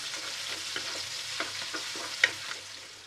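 Crushed ginger, garlic and green chilli frying in hot oil for a Kerala-style kappa biriyani, a steady close sizzle with light stirring scrapes and small pops, no voices.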